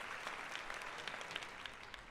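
A round of applause from a small group, steady dense clapping that holds at an even level for a couple of seconds, fairly quiet and heard alone.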